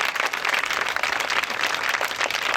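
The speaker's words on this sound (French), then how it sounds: "je voudrais qu'on les salue en les applaudissant" Crowd applause saluting a group at a public ceremony in Côte d'Ivoire, a continuous wash of clapping from many people, moderately loud and even throughout, heard alone without voices.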